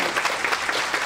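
Students clapping together in steady applause during a folk-themed spin-the-wheel game show segment, a dense continuous patter of many hands filling the short moment with no talk over it.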